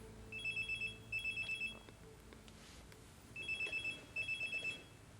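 A mobile phone rings with repeated bursts of a bright electronic trill, two bursts, a pause, then two more, fairly close against a quiet room.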